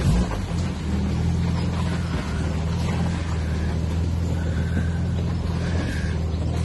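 A 1961 Jaguar E-type Series 1 roadster with its 3.8 litre engine idles at around 500 rpm, a steady low rumble holding evenly throughout with no talk over it.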